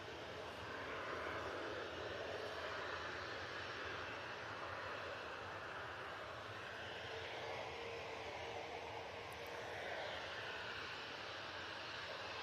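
Ryanair Boeing 737-800 departing Manchester Airport for Copenhagen, a steady broadband jet roar at moderate distance, fairly even throughout with a slight swell mid-way.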